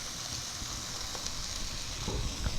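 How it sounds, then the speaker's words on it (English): Steady close sizzling hiss of food frying in a pan, continuous with faint crackles and light scraping near the end. "I don't know if you can hear that sizzling."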